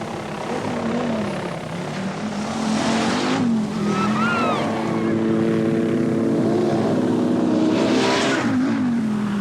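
Rally cars at the 1984 New Zealand World Rally Championship race flat out, their engines holding a loud, steady roar with rising and falling pitch and a droning, helicopter-like tone, close and continuous throughout.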